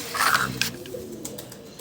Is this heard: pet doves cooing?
yes